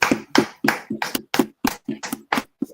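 An audience claps at a religious street-preaching gathering in a slow, uneven rhythm of about ten distinct claps, close and fairly loud, with no voices.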